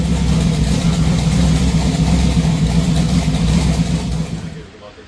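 A twin turbo Trans Am engine roars on a dyno, a loud, dense, rumbling run that holds steady and then falls away at the end.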